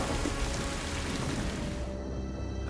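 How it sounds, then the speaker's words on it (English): Rain falls on dry ground in the Australian outback, a dense, even patter of drops that runs continuously, with no voices over it. "Come on, rain!"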